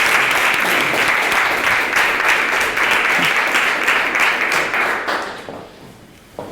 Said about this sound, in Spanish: ¿Te podemos aplaudir?